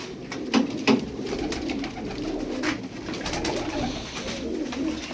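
Several pigeons coo softly and repeatedly nearby, their low throaty calls overlapping against a steady background hum.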